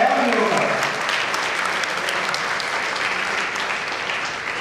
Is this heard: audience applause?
yes